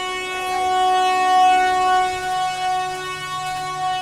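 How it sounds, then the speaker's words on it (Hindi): A train whistle sounds as a Jan Seva Express departs Purnia Court station bound for Amritsar, a long sustained tonal blast held steadily over station and rail noise, with no talk. "ट्रेन ने सीटी भी मार दी है"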